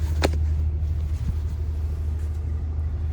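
A car engine idles steadily at low pitch while the car sits waiting to defrost on a winter morning, a constant near rumble with a brief faint knock early on and no talk.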